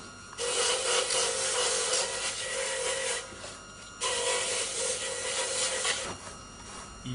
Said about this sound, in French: Mettre une brosse à polir en place. Polissez la résine.